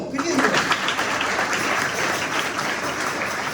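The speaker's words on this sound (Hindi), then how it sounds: "दीजिए ना ताली को" A church congregation applauds during a worship service, a steady wash of many hands clapping at moderate volume across the whole stretch, with scattered voices underneath.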